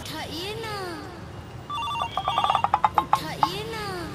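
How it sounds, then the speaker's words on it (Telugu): A telephone bell rings in a rapid series of bright, clattering strikes near the middle, framed by vocal sounds before and after, in a Telugu comedy scene. "అరే ఇప్పుడు ఫోన్ వస్తుందంట్రా."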